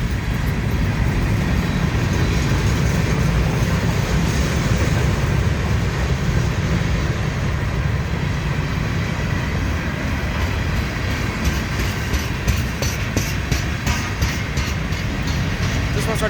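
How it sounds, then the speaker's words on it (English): A very long freight train rolls past at close range in Wartrace, Tennessee, a loud, unbroken rumble and roar of wheels and cars that never lets up. "this is officially the longest train I've ever filmed"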